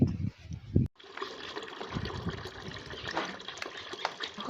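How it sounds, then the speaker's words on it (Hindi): Water pours steadily into a container with a continuous splashing rush after a couple of brief knocks at the start. "पानी भर रही हूँ, मैं खाना बनाऊंगी"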